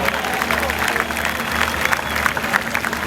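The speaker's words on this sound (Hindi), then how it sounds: "भरपूर तालियां" A large crowd at a PTI political rally in Lahore claps steadily amid crowd noise and some voices, loud and continuous with a low hum beneath.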